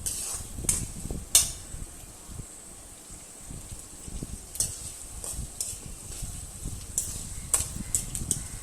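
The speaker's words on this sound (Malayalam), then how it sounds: "പച്ചമുളക് ഒരു പച്ചമണം മാറിയൊരു ചെറിയ ചുവപ്പ് കളറാകുന്ന വരെ മുളക് മൂപ്പിച്ചെടുക്കണം." Green chillies frying in a pan give a steady high sizzle, with a spoon stirring and scraping intermittently and occasional sharp clinks against the metal.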